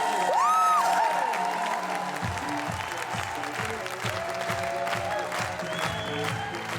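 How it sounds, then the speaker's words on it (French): A MasterChef studio audience applauds steadily, a dense wash of clapping with a few whoops rising over it near the start. "Sous vos applaudissements, s'il vous plaît."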